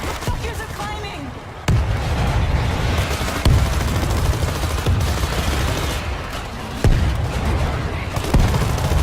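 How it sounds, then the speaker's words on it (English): A grenade blast and gunfire in the zombie video game World War Z, with a sudden heavy boom followed by steady, dense gunfire and further sharp bangs across a loud, chaotic firefight. "Throwing a grenade"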